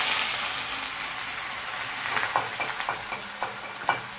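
Finely chopped onion sizzles in a spoonful of hot oil in a kadhai, a loud continuous hiss with sharper crackles and a few stirring scrapes toward the end.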